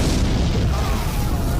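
A bomb explosion in a film erupts as a dense, rumbling roar of deep booming noise that lasts throughout the short moment.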